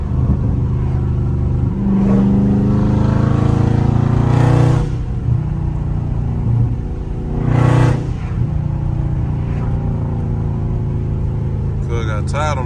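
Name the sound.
Dodge Scat Pack car engine revving in sport mode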